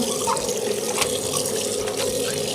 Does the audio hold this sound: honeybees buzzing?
no